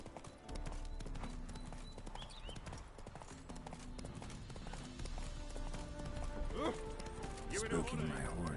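Clip-clop of Roach's hooves in the video game Witcher 3, a brisk repeating trot near the listener with music and spoken dialogue on top.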